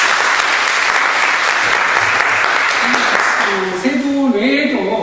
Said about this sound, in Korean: 대표자들한테 다시 한번 박수 한번 부탁드리겠습니다.